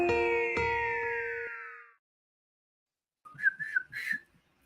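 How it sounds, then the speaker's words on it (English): A person whistles a short, lilting phrase of a few notes near the end, close and clear, following a fading synthesized tone and a brief silence. "Tried whistling it."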